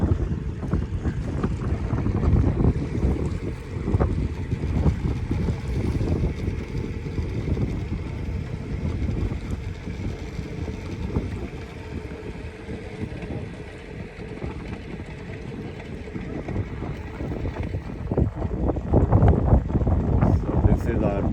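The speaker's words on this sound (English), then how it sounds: "So this is our boat ride in Lake Naivasha in Kenya, Africa" A boat ride on Lake Naivasha in Kenya, with a steady rumbling hull and motor drone mixed with heavy wind buffeting the microphone throughout, faint voices now and then beneath the noise.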